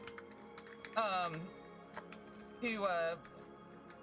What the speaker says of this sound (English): I just realized how loud that typing is